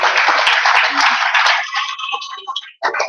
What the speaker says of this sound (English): Just a round of applause for our moderator,